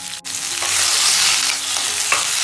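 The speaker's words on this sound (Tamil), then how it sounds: "இப்போ தக்காளி சேர்த்துக்கலாம்." Tomatoes being sautéed with onions and chillies for chutney, a loud, continuous close sizzle punctuated by a sharp clack of the spatula and scraping stirs, with no talking.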